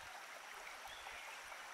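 A creek on the Ka'au Crater hike in Hawaii flows with a soft, constant rushing hiss, faint and steady throughout with no voices.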